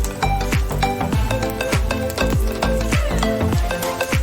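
A spoon stirs turmeric and other spices into a mashed potato mixture in a pan, making rhythmic scraping strokes about twice a second over a soft sizzle.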